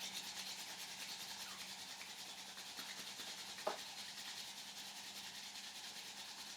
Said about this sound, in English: start to rub your palms together vigorously